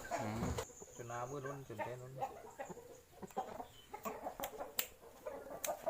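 Chickens, gamecocks at a rooster farm, cluck and call in a busy farmyard, close by, with a few sharp clicks and background chatter mixed in.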